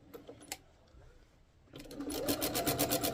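A sewing machine stitching a quilt starts up after a quiet stretch with a few faint clicks, then runs steadily with a fast, even mechanical whir and rhythmic needle pulses, close and fairly loud.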